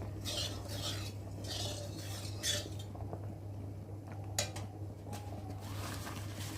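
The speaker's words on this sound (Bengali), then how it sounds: "আমি দিয়ে দেবো কালো জিরে কালো জিরেটা একটু ভালো করে নেড়ে নেবো" Nigella seeds (kalo jeere) are stirred in hot oil in a wok, a soft metallic scraping and clinking of a spatula against the pan over a faint steady hum, with a few sharper taps.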